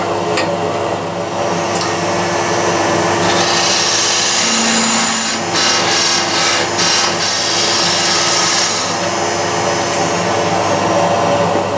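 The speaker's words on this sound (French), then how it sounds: "Finir à la scie." A power saw cuts through cherry wood with a loud, continuous whining buzz, rising and roughening midway, close and steady, with no voices.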